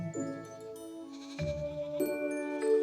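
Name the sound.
goats bleating while grazing on a slag heap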